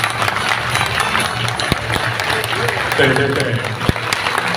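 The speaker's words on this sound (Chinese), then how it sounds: "请起立，给大家掌声鼓励鼓励" Applause from an audience at an art exhibition opening at a city art museum rises as artists stand, steady clapping under a host's voice and crowd chatter.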